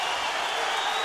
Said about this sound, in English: the crowd are really, really getting behind the Romanian here